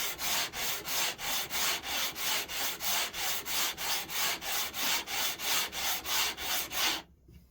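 Steady back-and-forth sanding of wood with a long sanding beam fixed to a bench, rhythmic strokes about three per second, close and even, stopping abruptly near the end.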